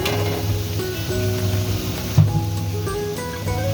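Onions frying in mustard oil in a wok give a steady, soft sizzle through the whole stretch, partly masked by louder tonal background music.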